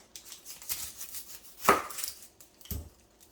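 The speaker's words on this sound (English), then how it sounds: "the first thing you're going to want to do is cut your onion here" A knife cutting through an onion on a cutting board, a few soft, scattered chops with one firmer thud near the middle, quiet and close with no talking.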